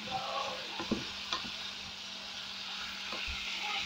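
Zucchini fries in butter in a pan, a steady close sizzle broken by several scraping stirs and light knocks of a utensil, with no talking.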